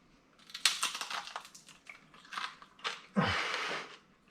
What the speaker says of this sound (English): We're going to take one of our homemade tortilla chips and dunk it